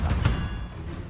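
A Depulso force spell cast in Hogwarts Legacy lands as two quick, close thumping bursts in the first quarter second, then fades into a low, fading rumble.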